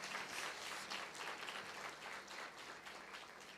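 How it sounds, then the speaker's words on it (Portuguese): A church congregation applauds together, a soft, even wash of many hands clapping that holds steady throughout and sounds distant and quiet. "Aplauda ao Senhor por isso,"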